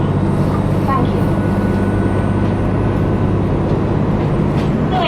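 Steady, loud interior drone of a KiHa 261 Hokuto diesel express train, an even engine rumble and running noise holding constant throughout with no break.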